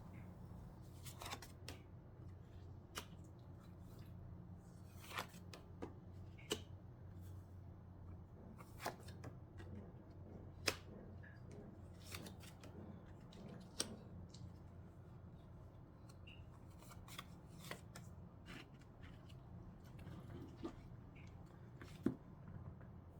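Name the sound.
tarot cards being shuffled and drawn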